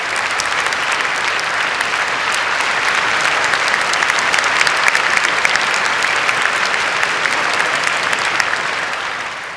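Steady, dense audience applause fills the room at a lecture by Jim Simons, loud and sustained from start to finish with no talking over it.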